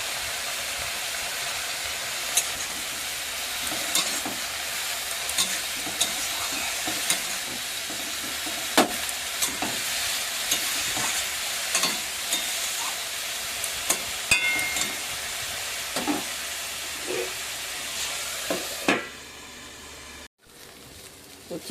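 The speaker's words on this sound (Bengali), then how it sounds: "উচ্ছে ভাজাটা বসিয়ে দিয়েছি" Bitter gourd fries in a pan with a steady broadband sizzle, punctuated by occasional scrapes and clicks of stirring, close and continuous before cutting off near the end.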